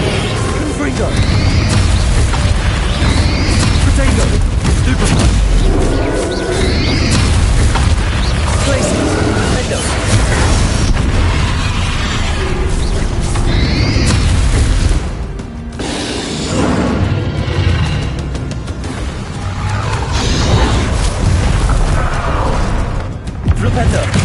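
Spells cast in the Hogwarts Legacy video game, including Stupefy, land as dense, loud booms and magical blasts that run almost without a break, with a voice calling out spell names over the effects.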